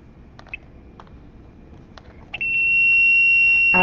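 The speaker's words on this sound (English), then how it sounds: "we were able to power our buzzer there" A buzzer powered by a battery made of pennies gives a steady, loud high-pitched electronic buzz that starts abruptly after a few faint clicks and keeps sounding without a break to the end.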